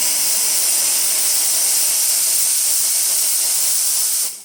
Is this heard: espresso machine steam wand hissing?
yes